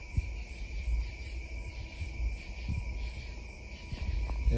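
Evenly pulsing cricket chirps fill a quiet night in the woods, steady and moderately faint, with occasional low rustling close by.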